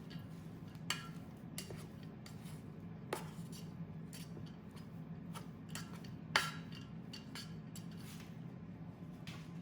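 Cooked basmati rice from a rice maker being fluffed with a utensil, a series of light scraping clicks and taps against the pot at an irregular pace, one knock louder than the rest.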